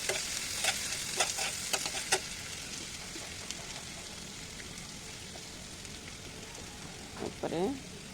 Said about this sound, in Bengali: ওই তেলের ভিতরেই কিছুটা পেঁয়াজ দিয়ে ভেজে নেব হালকা করে।